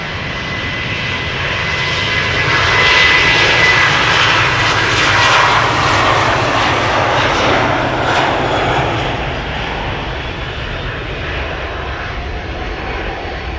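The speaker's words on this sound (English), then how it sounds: "Norwegian on its way to Oslo, Boeing 737-800" A Norwegian Boeing 737-800 departs Amsterdam Schiphol for Oslo, a loud, close jet engine roar that peaks early with a high whine and then slowly recedes to a lower rumble.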